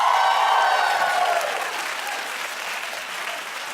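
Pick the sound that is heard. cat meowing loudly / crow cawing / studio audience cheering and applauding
studio audience cheering and applauding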